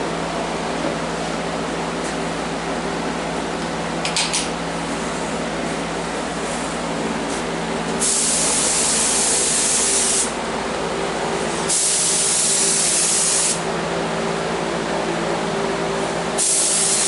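PVA mould release is sprayed onto a gel coat mould in a DIY workshop, bursts of loud, close, steady hissing spray lasting one to two seconds each, set against a constant low compressor hum.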